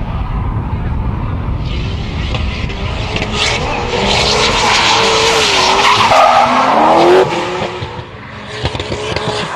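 Drift cars in a final run at Motopark roar past with loud, screeching tire squeals that rise and fall, engines revving hard, and a commentator's voice is faintly audible underneath.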